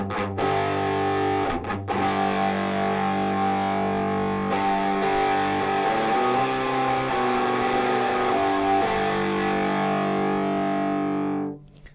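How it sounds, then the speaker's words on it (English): Heavily distorted electric guitar playing sustained power chords, loud and continuous, changing chords every couple of seconds before cutting off at the end. "always used power chords with distortion"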